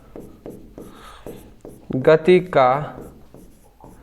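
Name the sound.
writing on a board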